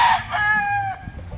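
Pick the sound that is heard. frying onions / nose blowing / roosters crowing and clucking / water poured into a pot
roosters crowing and clucking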